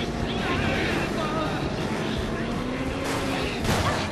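A helicopter in the video game Resident Evil 6 gives off a steady, loud rotor-and-engine drone that fills the whole stretch, broad and rushing like wind.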